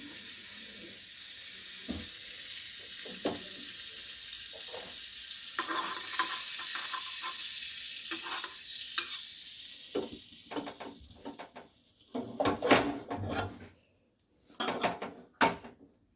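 Butter melting and frying in a pan over a lit gas stove, a soft steady sizzle with intermittent spatula scrapes and knocks that grow denser and louder toward the end, with brief gaps.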